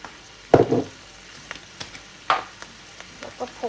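Shrimp and vegetables with oyster sauce and light soy sauce sizzle in a hot pan while being stir-fried, a steady soft hiss broken by sharper clatters and spikes from the stirring.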